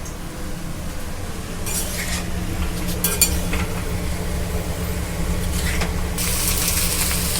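A spoon scrapes and stirs a spiced potato filling for North Kolkata-style singara in a pan, giving intermittent metallic scraping bursts over a steady background hiss, with no talking.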